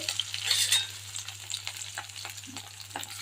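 Onion and green chilli hit hot oil with curry leaves, a close bright sizzle and spatter that swells early then settles into a lighter crackle with scattered spoon taps, no voices.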